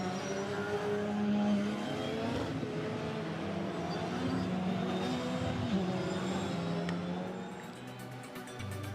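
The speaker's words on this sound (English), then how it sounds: "So the green light, the green flag, and now the cars accelerate away." Race cars accelerating away from a green-flag start on a wet Oulton Park circuit, a dense, steady roar of several engines with rising pitch sweeps, fading slightly toward the end.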